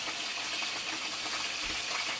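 Pot roast browning in a hot cast iron Dutch oven, a steady, moderately loud hiss of sizzling fat with faint crackles and one soft clunk, no voices.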